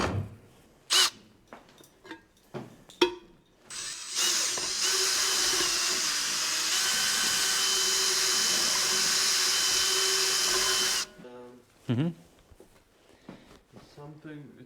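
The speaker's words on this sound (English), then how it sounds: "let's go ahead and bore this thing out" A power drill bores out and enlarges a hole in a saddlebag clamped in a vise, a steady high whine lasting about seven seconds, preceded and followed by clanks, handling knocks and people talking nearby.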